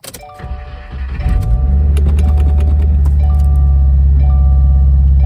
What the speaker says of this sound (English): it is a lot louder in this car from the all the mounts that I installed